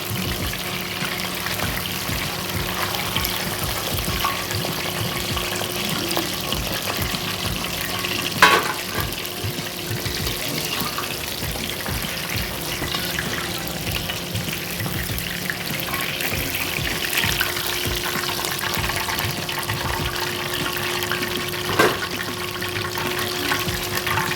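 A second batch of chicken deep-frying in oil for chicken fry makes a steady, dense sizzle and bubbling that runs unbroken for the whole stretch, close and fairly loud, with a couple of sharp knocks and no talk.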